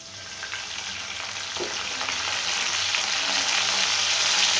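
Cumin and mustard seeds fry in about three spoons of hot oil, making a continuous dense sizzle that grows slightly louder and brighter throughout, with no talking.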